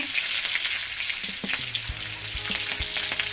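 Onion frying in hot oil with mustard seeds and cumin in a home kitchen, giving a steady close sizzle with scattered crackles and a few soft knocks of stirring.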